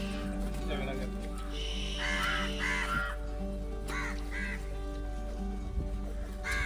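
Crows caw several times in short harsh bursts at a South Goa bird-feeding spot, mixed with other bird calls, while people talk nearby.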